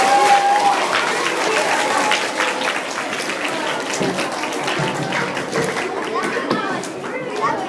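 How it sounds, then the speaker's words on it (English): A school audience applauds volunteers at a Tourette syndrome youth ambassador presentation, steady dense clapping with some crowd chatter that holds for several seconds and thins slightly toward the end. "Let's give them a round of applause for our volunteers."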